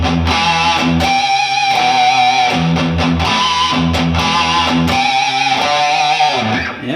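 A heavily distorted electric guitar plays a riff slowly, a loud, dense, sustained wall of chugging notes with steady rhythmic accents throughout, close and with no talking.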